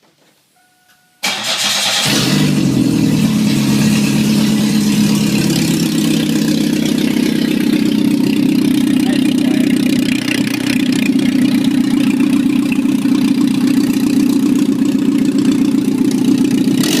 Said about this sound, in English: I just fired it up for the first time here a couple minutes ago. I don't have the exhaust on yet